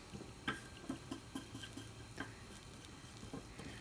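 A spatula stirs broccoli in a pot, giving scraping and tapping knocks over a low sizzle, up close and without talk.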